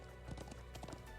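Horse hooves clip-clop in the video game The Legend of Heroes: Trails of Cold Steel II, a quick, steady galloping rhythm of hoofbeats with no voice over it, set against a constant musical background.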